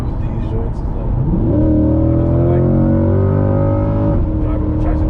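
A 2020 Chevrolet C8 Corvette Z51 with the Performance Package, traction control off, revs hard as it accelerates, its engine note sweeping up and then holding a loud, steady drone before easing off near the end.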